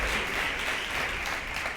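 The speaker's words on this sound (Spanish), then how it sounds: "Os lo presento y os pido un fuerte aplauso para él" Applause from an audience greeting a speaker at a talk, a dense steady wash of clapping that holds at an even level throughout with no voices over it.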